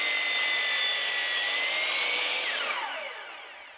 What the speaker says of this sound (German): Ich nutze jetzt einfach ganz normal die Kappsäge, nicht die Zugsäge, einfach nur die Kappsäge.